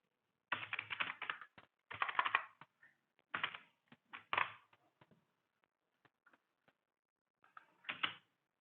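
Typing on a computer keyboard while adding captions in video editing software, heard as close, clattering bursts of keystrokes separated by pauses and a few isolated single taps.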